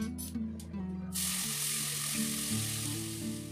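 Cumin seeds dropped into hot oil in a pan sizzle loudly and steadily, a close, continuous frying hiss that swells after a brief quieter start, with no talking.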